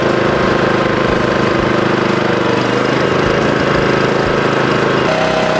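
A generator engine charging a DJI T50 agricultural drone battery, running loud and close with a steady mechanical drone and a gradual rise in revs near the end.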